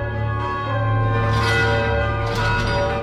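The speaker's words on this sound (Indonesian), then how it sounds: "Akibat serangan itu, kini lonceng pun dibunyikan." A large alarm bell rings with a steady, sustained metallic tone that swells and lingers, loud and resonant.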